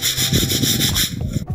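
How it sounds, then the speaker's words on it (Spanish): Abrasive sanding of a tiled column surface during renovation, a steady rhythmic rubbing scrape with repeated strokes, close and fairly loud, with no talk. "Vamos a lijarlo."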